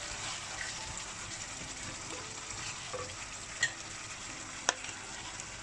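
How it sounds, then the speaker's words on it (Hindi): Tomatoes added to a frying pan while cooking aloo shimla mirch, a steady quiet sizzle with a couple of brief sharp clicks or stirring knocks over the hiss. "अब यहाँ पे हम हमारे जो हैं टमाटर ऐड करेंगे।"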